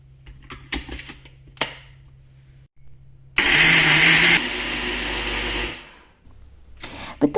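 An electric mixer jar blends pineapple rings with coconut milk for a pina colada smoothie, a loud whirring burst lasting about three seconds between quieter handling clicks and knocks.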